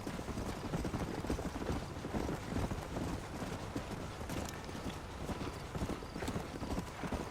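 Horse hooves clip-clop steadily in the Red Dead Redemption video game, a continuous close trotting rhythm with rattling gear mixed in, holding an even pace throughout.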